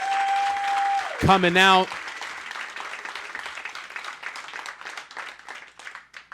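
Audience applause at a live stand-up comedy show, a continuous patter of many hands that rises after a short spoken line and a brief tone, then carries on steadily, moderately loud.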